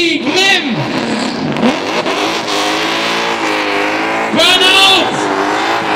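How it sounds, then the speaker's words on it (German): Drift car at a drift show event at Tuning World Bodensee revving hard in a burnout, loud sustained engine roar with rising and falling revs and tire screech, under an announcer's excited commentary. "Burnout!"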